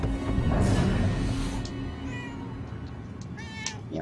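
Cat meowing in the video game Murdered: Soul Suspect, a few plaintive meows rising and falling over low rumbling game ambience, fairly close and clear.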